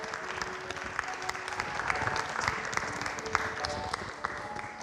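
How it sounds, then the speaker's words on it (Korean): A church congregation applauds at a worship service, a faint, even patter of many hands with a few sharper individual claps standing out. "우리 더 큰 박수로 주님 앞에 영광 돌립니다."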